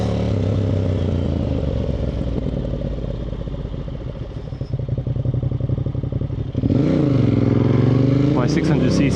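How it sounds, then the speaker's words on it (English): A Ducati Monster 1200 S motorcycle engine rumbles loudly and steadily up close, its tone shifting sharply near the end as it revs, with possible crackling pops on the overrun. "And just listen to that engine, the pops and bangs"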